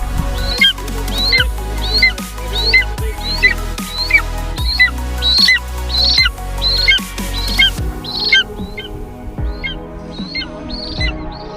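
A golden eagle gives a run of repeated sharp, high squawking calls close by, loud and rhythmic, with thumps and handling noise underneath.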